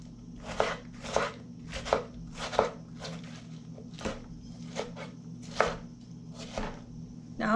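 Knife chopping ingredients on a board for homemade Italian-style chicken Parmesan pasta, about a dozen sharp, evenly spaced thuds in a steady rhythm over a low background hum, close and clear with no talking.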